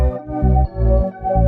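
A looping house bass line plays together with a bright synth main melody, the deep rhythmic bass pulses sitting under sustained harmonic chords, loud and continuous without any voice.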